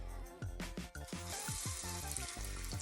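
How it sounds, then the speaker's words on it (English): Battered baby blooming onion dropped into hot oil, a steady sizzle and bubbling fry under a repeating rhythmic backing beat. "now we're just gonna stick this right in the oil"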